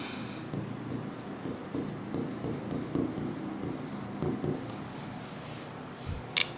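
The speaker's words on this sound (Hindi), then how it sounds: "तो मैं यहां पे एक चीज लिख देता हूं" Steady scratchy strokes of writing on a board during a live US CPA financial accounting class, continuous close marker or chalk sounds over a constant room hum.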